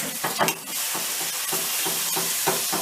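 Meat and toast bread fry on a hot griddle for a Korean street food sandwich, making a loud, close, continuous sizzle with a few scraping turns partway through.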